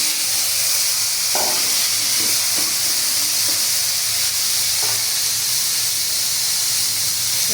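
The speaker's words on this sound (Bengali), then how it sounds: "আমি এখন আলু ভাজি করব।" Potatoes frying in hot oil in a pan, a loud, continuous hissing sizzle with a few soft clicks and scrapes from stirring, close up and with no voices.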